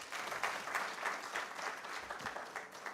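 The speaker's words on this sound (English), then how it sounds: "Another round of applause for our chief guest." An audience at a World Intellectual Property Day event applauds the chief guest, a fairly faint, steady patter of many hands clapping throughout with no talk over it.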